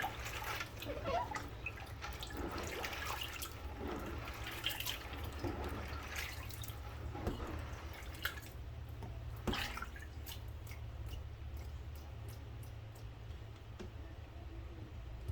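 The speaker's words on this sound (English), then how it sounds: "I'm gonna strain this, and we're gonna do it one more time. We're going through our last rinse." Rinse water pours and drips steadily as beans are strained after their final rinse before pressure canning, a continuous wet splashing with scattered louder drops throughout and no talking.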